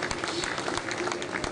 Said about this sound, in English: Please clap if you want to clap.